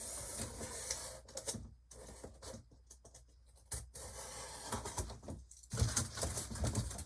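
Blade slicing through box material, likely cardboard, while building a box to hold a golf club: a dry rubbing, scraping cut that comes in irregular bursts with brief quiet gaps, close and moderately loud, with no talking.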